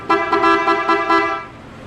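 A Honda ADV-150 motor scooter horn honks in several short, loud bursts, then fades out with no talking.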